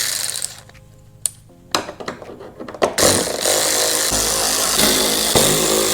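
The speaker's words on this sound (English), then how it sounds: "You have 4 T25 windshield bolts, remove those." A power tool with a T25 bit drives out windshield bolts on a 2024 Harley Touring motorcycle, making loud, close ratcheting whirs in short bursts, then a sustained grinding spin.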